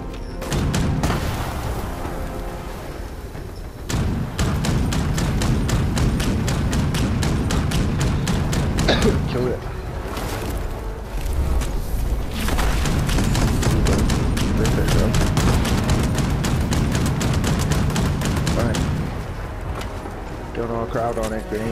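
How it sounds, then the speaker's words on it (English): Grenade launcher fire and explosions in Fallout 76 give repeated heavy booms and thuds, with bursts of rapid combat noise running throughout and people talking over much of it. "Is that you shooting a grenade?"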